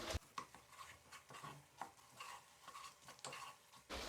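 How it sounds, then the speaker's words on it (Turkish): Spoon scraping and stirring tomato paste into minced meat in a pot, a steady series of soft scrapes and clinks with faint sizzling underneath, close by. "Salçamı da şöyle birkaç tur karıştırdıktan sonra"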